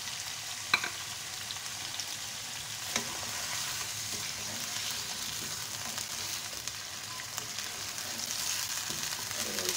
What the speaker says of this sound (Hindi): देखिए चिकन हमारा तकरीबन फ्राई हो चुका है।